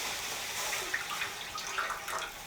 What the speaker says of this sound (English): I'm going to add the water now